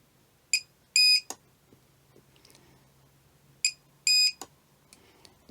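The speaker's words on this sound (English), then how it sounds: "spot weld first vertical piece" A spot welder joins a vertical nickel strip in two cycles. Each cycle is a pair of short electronic beeps followed by a sharp snap, in a quiet room with no talk.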